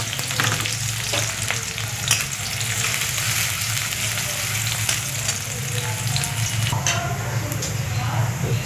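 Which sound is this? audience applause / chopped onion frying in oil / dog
chopped onion frying in oil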